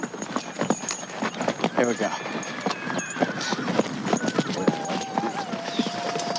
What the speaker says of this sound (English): Ride some horses today, huh?